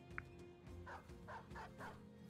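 A dog in the video game Battle Brothers barks in four quick, evenly spaced yaps after a short click, fairly faint over a steady low background drone.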